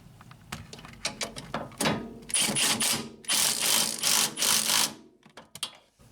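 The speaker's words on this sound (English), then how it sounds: "So we'll go ahead and snug that bolt up right now." A ratchet snugs a strut bracket bolt on a 2007 Honda Accord, close and loud, with quick clicking strokes that give way to longer buzzing bursts of rapid ratcheting, then a few final clicks.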